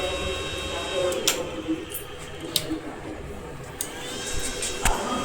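A repaired circuit welding machine, switched on and connected straight to the mains line, gives a steady electrical hum and whine with a few sharp clicks scattered through.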